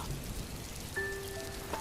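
A rain sound effect in a Hindi horror cartoon gives a short, steady wash of falling rain, joined about halfway through by a sustained eerie tone.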